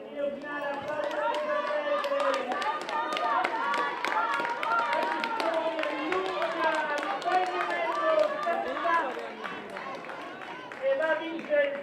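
A stadium announcer calls the final straight of a women's 800 m race at a regional athletics championship in Borgo Valsugana, with applause and crowd noise from spectators running steadily underneath the speech.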